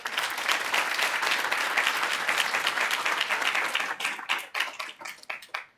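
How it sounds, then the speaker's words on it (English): An audience claps in a sustained round of applause at an Afrigen GMP accreditation event, holding steady before thinning into a few separate, isolated claps at the close. "So we should clap for her."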